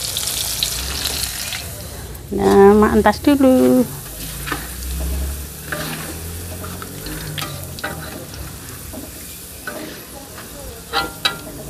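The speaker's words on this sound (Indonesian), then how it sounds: "lanjut mak goreng bawang merah bawang putih dulu ya" Shallots and garlic frying in a pan, a brief loud burst of sizzling as they hit the oil, then a softer crackle with scattered clinks and kitchen noises while someone speaks briefly.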